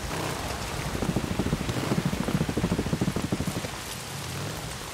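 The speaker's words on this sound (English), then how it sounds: "At least we got some cover with the rain." Rain falls steadily in the zombie video game Days Gone. It makes a dense, continuous hiss with a rhythmic pattering pulse through the middle, loud and close, and no talk is heard.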